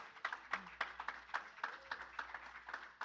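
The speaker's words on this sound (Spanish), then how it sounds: "¿Cuántos le dan un fuerte aplauso al Señor?" A church congregation claps together in a steady, rhythmic beat, the sound moderately close and continuous for a few seconds.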